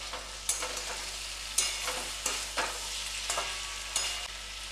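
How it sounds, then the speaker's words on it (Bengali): Pumpkin and potato pieces fry in a pan without water for a Bengali kumror chokka. They hiss steadily while a spatula scrapes and stirs in regular strokes, close and fairly loud. "আমি ভেজে ভেজেই এটা রান্না করব, জল দেব না।"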